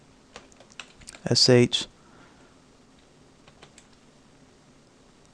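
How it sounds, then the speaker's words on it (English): Light, rapid clicks of keys on a computer keyboard typing a terminal command on an Ubuntu system, scattered and close, briefly interrupted by a short loud voice in the middle. "bring this up, and type sudo"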